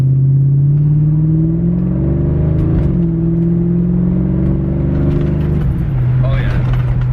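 A Ford Mustang Foxbody muscle car accelerates hard from a standstill to about 40, its engine droning loud and close, the pitch climbing through each gear and dropping at the shifts, with a brief voice near the end.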